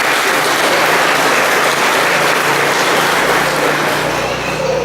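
Congregation in a full church during Mass applauds loudly, a dense, close wash of clapping that holds steady for several seconds with a low rumble underneath.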